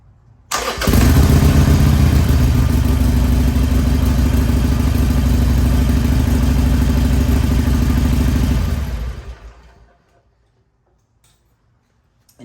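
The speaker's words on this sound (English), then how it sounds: "We're gonna verify that we're in neutral, pull in the clutch, and give her a start." A Harley-Davidson Sportster 883 motorcycle cranks and fires, then idles loudly and steadily with a throbbing, ticking beat for several seconds before being shut off and falling silent.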